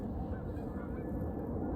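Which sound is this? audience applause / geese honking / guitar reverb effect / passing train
geese honking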